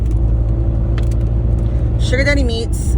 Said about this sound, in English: I'm sorry if you guys hear my noisy car and, like, shaking.